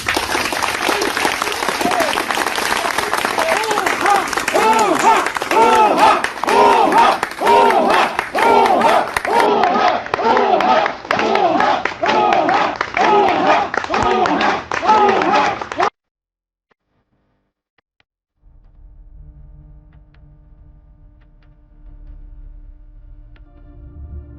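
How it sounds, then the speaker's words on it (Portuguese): A crowd claps and cheers in steady rhythmic waves, loud and close, which stop abruptly partway through. Quiet low sound follows. "uma salva de palmas para o nosso irmão Wesley"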